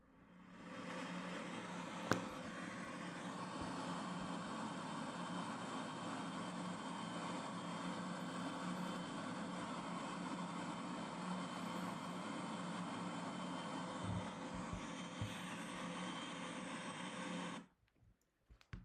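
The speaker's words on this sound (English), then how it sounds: "This is the airplane noise and the noise cancellation is on." Steady broadband engine drone fills an airplane cabin, a constant low roar with a faint hum, continuous and even until it cuts off near the end.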